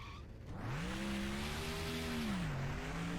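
NASCAR stock car in NASCAR Thunder 2004 braking hard into a corner, tires squealing in a sustained skid that bends in pitch over engine roar, loud and close with no talk.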